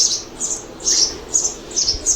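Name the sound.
sparrow and sparrow chicks chirping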